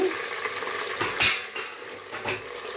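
Chopped tomatoes tipped into a pan of frying onions and mint, with a close sizzle, a few scraping and clinking stirs against the pan, and a brief louder splash of sizzling, with no talk.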